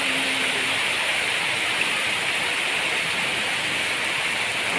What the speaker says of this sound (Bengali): আজকে না একটু পর পর বৃষ্টি হচ্ছে আর একটু পর পর রোদ হচ্ছে।